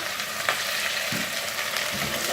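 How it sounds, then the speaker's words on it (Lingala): Bell pepper and onions fry in hot oil, giving a steady, close, even sizzle that holds throughout with no voices. "Mafuta pe kotoyo esili déjà na ko chauffer na ko tia sikoyo ndembe poivron nanga na matungulu"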